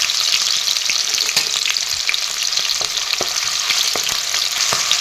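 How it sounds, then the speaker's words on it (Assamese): Onions fry in hot oil for a fish and bottle gourd curry, giving a steady, close, bright sizzle with occasional stirring scrapes and no talk. "প্ৰথমতে তেলখিনি গৰম হৈছে, ইয়াতে মই এতিয়া পিঁয়াজখিনি দি ল'ম"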